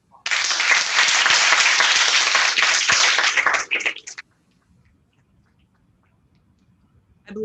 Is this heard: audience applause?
yes